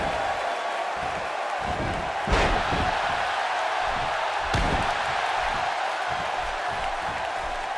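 A video game wrestling crowd in WWE 2K16 keeps up a steady roar of cheering, broken by two heavy slam impacts from the ring.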